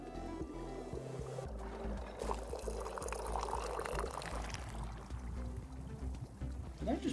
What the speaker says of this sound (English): Did I just perfectly pour a cup?